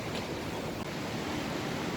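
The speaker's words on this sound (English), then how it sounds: "there is a canal with water flowing down that direction" A steady, broad rush of flowing canal water fills the whole short stretch, with no talking over it.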